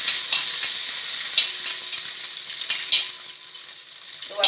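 Cashews and raisins fry in ghee in a pot for ash gourd milk payasam, a steady bright sizzle throughout with occasional stirring clatters, close and loud with no talking.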